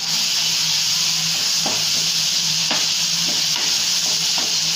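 Ginger garlic paste and turmeric being stirred into fried onions for a tomato egg curry: a steady loud sizzle and hiss with a few distinct scraping strokes of the spoon, no talking.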